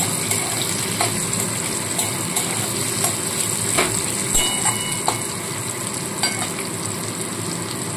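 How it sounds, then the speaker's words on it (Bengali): Steady frying sizzle fills the pan, a dense crackling hiss with occasional sharper pops and scrapes, close and continuous with no talking. "পেঁয়াজটা দিয়ে একটু ভাজা ভাজা করে নিতে হবে।"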